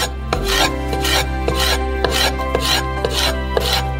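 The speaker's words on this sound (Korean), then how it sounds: "피망에서 펄프를 발라내고 작은 조각으로 썰어주세요." A knife chops a bell pepper, its pulp removed, into small pieces on a board, with regular strokes roughly twice a second over a steady background tone.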